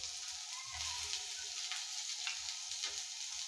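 Butternut squash sautéing and caramelizing in a pan, a steady soft sizzle with occasional light stirring scrapes, fairly quiet and continuous.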